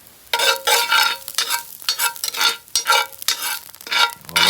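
Onions for Irish lamb stew hit a hot pan and sizzle loudly up close, a frying hiss broken into repeated bursts as they are stirred, with no talk.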